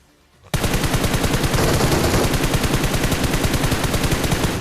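After a brief near-silence, loud automatic gunfire erupts in a shooting video game, a rapid, evenly spaced stream of shots that continues unbroken to the end.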